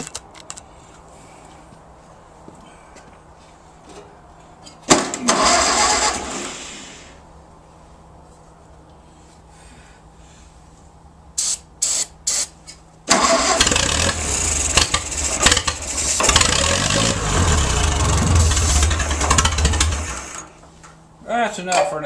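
A 1940 Case V tractor engine cranks and catches, running roughly in loud bursts with gaps of quieter background between them.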